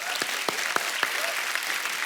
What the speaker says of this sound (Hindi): पहले तो इस बात के लिए तालियां होनी चाहिए